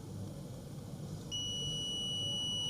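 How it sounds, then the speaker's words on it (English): Quiet background hiss, then a steady high-pitched electronic beep from a multimeter continuity test starts halfway through and holds continuously to the end. "So the meter is beeping."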